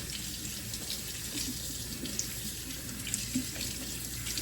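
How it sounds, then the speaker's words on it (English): Cold tap water runs steadily into a sink while Dungeness crabs are rinsed and cleaned by hand, a continuous close splashing hiss with small irregular bumps from the handling. "now we're just going to wash out, clean the crabs with cold water"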